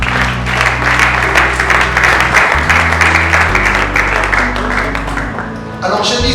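A church audience claps and cheers in a sustained, loud wave of applause under organ or keyboard chords, fading near the end.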